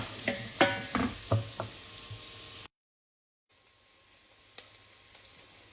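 Onion and garlic sautéing together in a pan for chicken curry: a steady sizzle broken by several sharp stirring scrapes and clatters, then a brief silence and a quieter, thinner sizzle with one faint tap.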